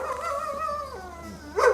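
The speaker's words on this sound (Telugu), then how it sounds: "డాగిలు చూడండి పైనుంచి ఎలా గొరుస్తున్నాయో" Dogs on a rooftop above howl and yelp in a drawn-out, wavering call from a short distance, with no talking over it.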